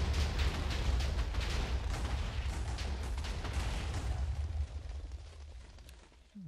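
A dense, continuous roar of booming video game explosions with crackling bursts, loud and sustained before easing off near the end.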